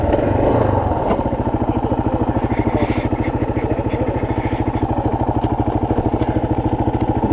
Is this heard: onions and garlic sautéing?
no